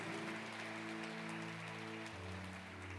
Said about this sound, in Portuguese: Dê uma salva de palmas a Ele mais uma vez